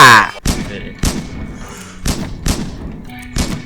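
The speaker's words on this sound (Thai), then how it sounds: "ใครมันยิงหลังวะ" Gunshots in a video game, several sharp reports spaced roughly half a second apart, loud and close, with a brief burst of background music at the start.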